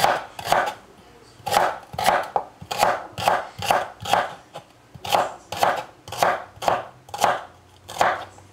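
A knife chops through celery on a cutting board for a Korean-style side dish, with about fourteen crisp, evenly spaced thuds in a steady rhythm, close and fairly loud, with no talking.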